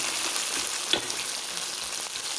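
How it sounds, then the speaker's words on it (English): Beef and bittermelon frying in black bean sauce in a pan, a continuous close sizzling hiss with a couple of faint stirring clicks. "So the beef is cooking well."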